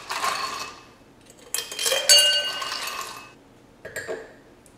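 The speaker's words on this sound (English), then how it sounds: "Take a wine glass and fill it up with ice." Ice cubes clatter and clink into a wine glass in several bursts, bright and close, with quiet pauses between.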